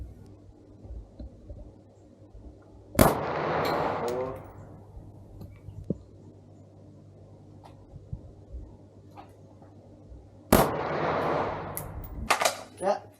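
AK47 rifle fired at a shooting range in Vietnam: two loud, sharp reports, the first near 3 seconds and the second near 10.5 seconds, each trailing off in echo, with faint chatter and a low steady hum between them.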